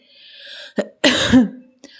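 A couple of short, sharp coughs close up, with a throat-clearing rasp between them and quiet breathing around.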